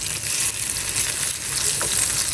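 Sliced eggplant fries in hot oil in a pan, giving a steady close sizzle with occasional crackles and a faint stirring scrape, with no voices.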